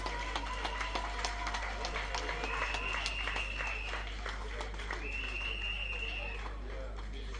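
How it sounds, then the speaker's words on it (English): Applause rises from the audience at a constituency annual general meeting, steady scattered clapping at a moderate distance over a low hum, with voices and cheers mixed in. "Ladies and gentlemen, let's give them a round of applause."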